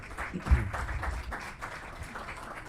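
Audience applause welcomes a speaker at the LATINCACS 2018 conference in Lima, Peru, a steady wash of clapping from a moderate crowd lasting a few seconds with a slight swell early on.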